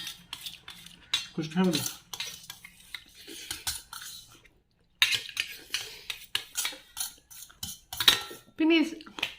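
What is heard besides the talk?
spoon cutting and scraping Maggi noodles in a bowl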